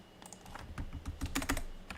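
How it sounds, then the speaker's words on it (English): Several quick, irregular taps on a computer keyboard's backspace key, close and crisp with short pauses between bursts, over a quiet room. "I'm just hitting the backspace key if I click the wrong button."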